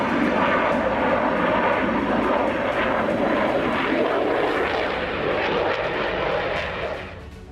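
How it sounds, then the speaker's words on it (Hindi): A MiG-29 Russian fighter jet lands at Shiraz airbase in Iran, its engine roar loud, broad and steady, then fading toward the end, with no voices. "ईरान के शिराज एयरबेस पर उतरता MiG-29"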